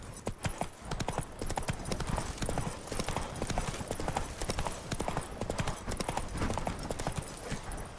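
A horse's hooves clip-clop at a brisk, even pace in The Witcher 3: Wild Hunt, Blood and Wine, close and continuous over soft in-game background sound.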